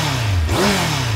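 A Kawasaki Z1000 motorcycle with a 953 cc engine, derived from the ZX9 motor, revs loud and close, its pitch dipping and then climbing again in one short throttle blip.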